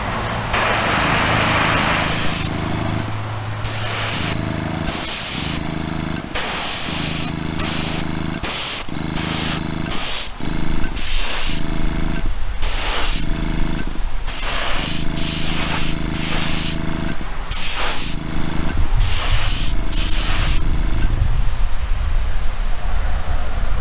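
A spray gun hisses steadily as it lays primer onto a custom Chevy Impala, a loud continuous rush broken by short pauses as the trigger is released and pulled again, with no talking.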